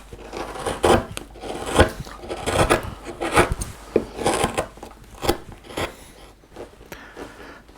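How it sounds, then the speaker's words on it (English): Bent gouges carve waste wood from a hanging shirt carving, making repeated close, crisp scraping cuts in an uneven rhythm of short strokes, each a brief rasp followed by a pause. "and then bent gouges, taking away the waste"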